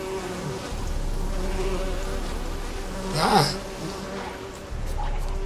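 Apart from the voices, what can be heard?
bee swarm buzzing in video game The Witcher 3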